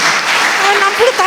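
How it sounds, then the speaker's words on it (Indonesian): Applause from a church congregation at a sermon gathering, a steady clapping wash filling the whole moment with voices mixed in. "Tepuk tangan buat Tuhan yang menganugerahkan."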